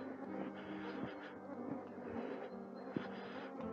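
Small flies buzzing continuously around on a steep stone-paved mountain path up to a Bulgarian fortress, a faint steady drone with a few brief louder passes close by.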